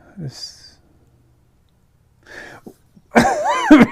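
A short throaty cough near the start, then a pause, a muffled second burst, and a strained, harsh vocalizing cough-like sound at the end.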